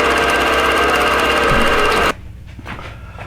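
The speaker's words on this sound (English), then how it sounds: "it's just going to go across and sew these little half circles all the way across the top" A computerized quilting machine stitching a row of small half circles across the top of a quilt, giving a loud, steady, fast mechanical whir that cuts off abruptly near the end and leaves quiet room sound.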